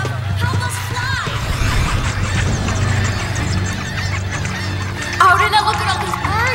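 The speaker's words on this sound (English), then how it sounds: "look at all these birds" A flock of birds calling in an animated show, honking and squealing cries crowding together loudly over a busy soundtrack, with a burst of sharper calls near the end.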